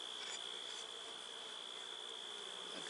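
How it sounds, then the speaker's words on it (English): Honey bees hum softly at a beehive as they start coming out, a faint, steady drone with a thin high whine and no voices. "Look at these bees starting to come out."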